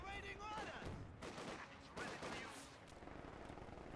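Vickers and MG42 machine guns trading fire in Company of Heroes 2, a dense, continuous rattle of overlapping bursts with distant explosions in a busy battle mix, a voice talking over it.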